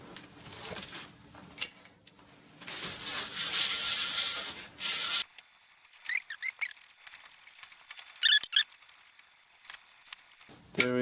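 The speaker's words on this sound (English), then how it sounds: "I'm going to sand on a 150 just the insides of these to make sure they're flat and roughed up" Flat faces of knife-handle pieces sanded by hand on 150-grit sandpaper, several close bursts of rough rubbing scratches, the longest and loudest midway, with quieter knocks and shuffling between.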